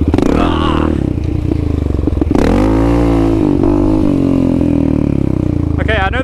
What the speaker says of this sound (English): You kinda gotta go light on the throttle, but just enough to get it up.